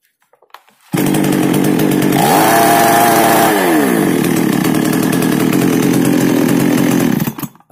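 Chainsaw engine running after its carburetor adjustment screw is turned down one turn: a loud, steady buzzing whine that starts abruptly, holds at high revs with a brief pitch sweep midway, and cuts off after about six seconds.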